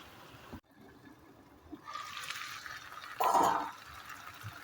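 Water poured into a pan of cooking meat, a short liquid splash and gurgle rising after a quiet start, with a brief louder burst of pouring, close up.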